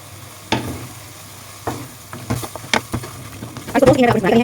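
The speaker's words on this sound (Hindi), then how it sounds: "आपने इसकी भुनाई करनी है ताकि मसाले इसमें जब्स हो जाए।" Chicken roasting with spices in a handi, a low sizzle under several spoon-scraping stirs and clunks against the pot, busier toward the end.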